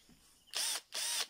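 A Titanium Power cordless electric drill whirs in two short, loud bursts separated by a brief pause, close to the microphone, with no talking.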